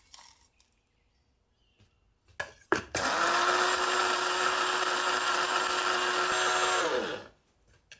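An electric grinder grinds whole spices for garam masala, starting after a few light clicks and rattles, then a loud, steady high whir for about four seconds before winding down and stopping, with no talking.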